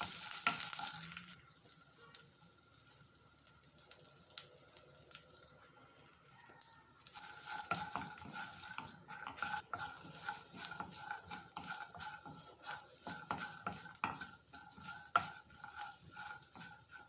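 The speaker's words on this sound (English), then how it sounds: "add in 1/2 teaspoon of turmeric powder and mix well" Ginger paste and turmeric powder stirred in a pan for lemon rice, a soft steady sizzle with scraping strokes growing busier and more rhythmic in the second half, close and moderately quiet with no talking.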